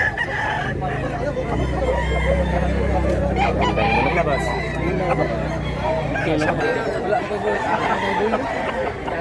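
A rooster offered for sale crows at a rural market amid a steady crowd murmur and nearby chatter, the call rising over the busy background for several seconds.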